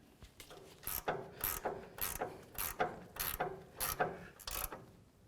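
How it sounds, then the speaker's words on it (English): A ratchet wrench tightens the upper sway bar link nut on the front suspension of a 2009-13 Ford F-150 pickup, giving about eight close, crisp bursts of clicking strokes at a steady rhythm with no talk. "Now let's get our upper sway bar link nut back on there."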